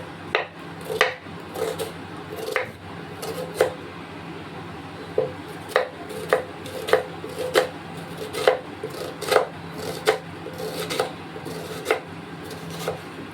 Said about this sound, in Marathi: आपण इथे हे कांदे कट करून घ्यायचे आणि टोमॅटो कट करून घ्यायचे